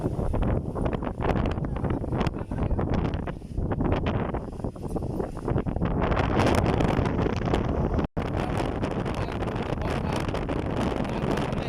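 Strong storm wind roars steadily and loudly into the microphone, gusting and buffeting throughout with a brief dropout near the end, no voices.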